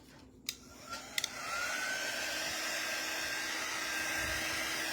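Hair dryer blowing on wet paint, switching on after a few faint clicks and taps, then running as a steady, close, even whoosh to the end.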